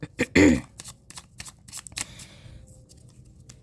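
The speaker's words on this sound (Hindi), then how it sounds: "Last shuffle." Tarot cards are shuffled close up in short riffling bursts and soft flicks that fade toward the end, with a brief voice murmur in between.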